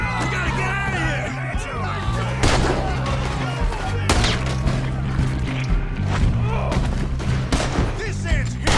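Dense gunfire rattles through a Red Dead Redemption 2 shootout, with repeated sharp shots and heavier booms over a steady game soundscape while characters shout and talk throughout.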